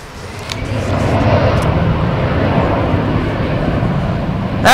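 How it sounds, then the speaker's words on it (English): An American Eagle airliner at Tulsa International Airport begins its takeoff roll, a broad steady jet engine roar swelling and holding loud and near, with no talk over it. "So now this Eagle plane is about to be on the roll."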